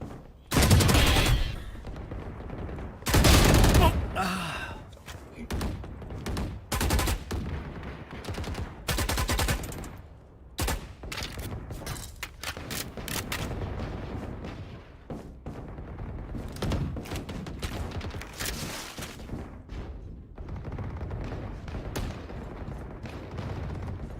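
Video game gunfire in a ranked match: repeated bursts of automatic shots and heavy booms, some loud close volleys and many sharper isolated cracks spread across the stretch, with no talk.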